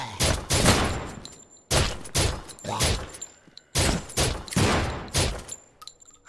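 Gunfire in the video game SURV1V3, several loud booming bursts of rapid shots in clusters separated by short gaps, close and with no talking.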